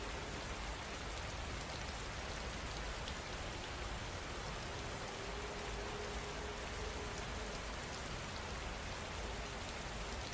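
Continuous rain falls at an even, moderate volume, a constant wash of raindrops on a surface without speech or breaks.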